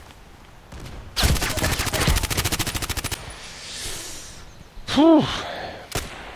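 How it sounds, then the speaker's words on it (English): Rapid automatic gunfire from a G36C rifle in the online shooter Contract Wars, a dense burst of about two seconds followed by scattered game sounds and a single exhaled sigh. "We're shooting at this guy."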